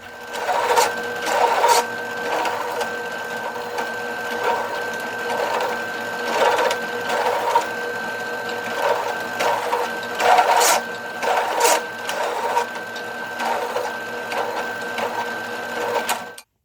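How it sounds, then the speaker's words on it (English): A machine chamfers drilled holes in a steel knife blank at a knife workshop, giving a steady close mechanical whir that is broken by repeated louder bursts as each hole is cut. "Now let's chamfer them."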